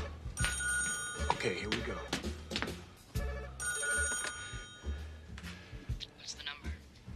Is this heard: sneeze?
no